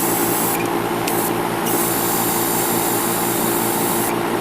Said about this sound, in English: also I'm using my wave airbrush